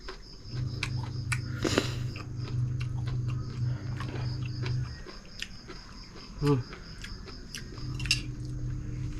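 Crunchy cultivated mushrooms from a mushroom curry with cha muang leaves are chewed close to the mic, giving sporadic crisp crunches and bites over a low steady hum.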